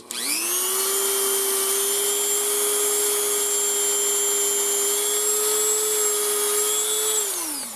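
A steady high-pitched motor whine spins up, holds evenly for several seconds, then winds down, like a bench buffing wheel running alone, used for polishing a Smith & Wesson revolver part.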